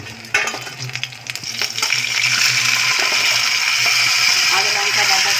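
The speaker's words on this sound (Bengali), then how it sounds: "এখন বেগুনি ভাজা হচ্ছে" Eggplant fritters (beguni) frying in a home kitchen, a loud continuous sizzle that swells after a sharp start, with scraping and clinking of utensils close by.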